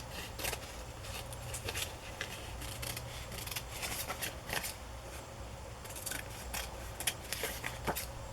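Scissors snipping around paper collage ephemera for a 1960s fashion journal page, a close run of quick crisp cuts in an uneven rhythm, no talk.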